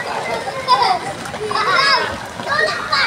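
Several children swim and splash in deep, dark floodwater from heavy rains, with irregular watery splashes and excited young voices chattering and calling throughout.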